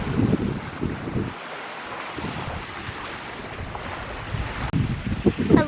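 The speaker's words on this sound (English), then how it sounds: "We are fighting the wind." Strong wind buffets the microphone at sunset on the coast of Exuma in the Bahamas, a steady, close roar with gusts that swell and drop, and no voices.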